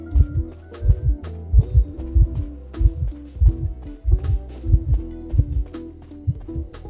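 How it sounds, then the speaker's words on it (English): Heartbeat warning sound from the game Identity V, a loud, deep double-thump pulse repeating in a steady rhythm over a low musical drone. "I thought I heard a heartbeat, but I don't see them."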